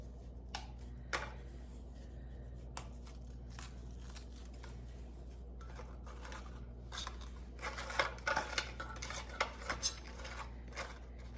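Graham crackers broken and laid into the bottom of a dish, heard as quiet scattered snaps, clicks and scrapes against the dish, getting busier near the end, over a low steady hum, no talking.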